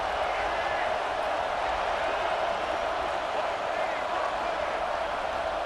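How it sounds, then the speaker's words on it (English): Stadium crowd roar in EA Sports College Football 26, a dense, steady wash of massed cheering and murmur filling the background at even loudness throughout, with no clear talking on top. "This crowd ready to make its presence known."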